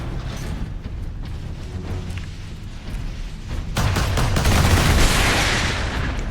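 An automated sentry gun in Warhammer 40K Space Marine opens fire, a loud rapid burst of gunfire that swells sharply midway and continues alongside mechanical clatter, with no talking.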